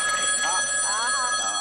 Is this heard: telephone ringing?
yes